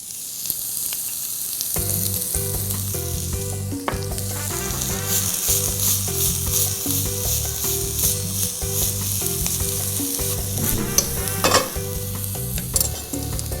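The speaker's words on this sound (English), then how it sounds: "The oil is nice and hot. I'm putting some onion inside." Onion and garlic fry in hot oil for chicken parmigiana: a loud, steady sizzle with scraping stir strokes throughout, and no talking.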